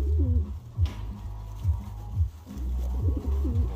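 Pigeons in a crowded loft cooing in repeated low rolling phrases, close and fairly loud, with a few brief wing or movement sounds between calls.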